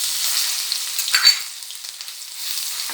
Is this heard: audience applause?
no